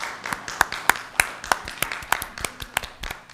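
Scattered hand claps from a few people at a school board business meeting: about ten sharp, separate claps over a few seconds, irregularly spaced and fairly close, with a faint murmur behind them.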